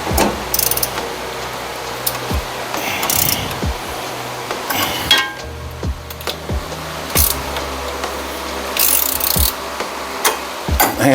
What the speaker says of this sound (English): our ratcheting wrench only works on one